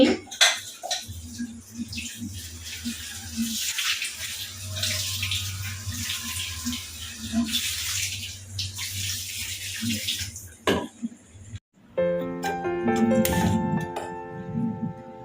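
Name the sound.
washing food under running tap water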